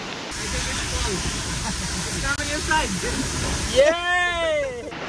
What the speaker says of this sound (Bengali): এখন আরেকটা ঝর্নার পাশ দিয়ে যাচ্ছি